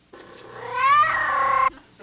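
A cat lets out a single drawn-out meow, rising then holding and cutting off, clear and fairly close against a quiet background.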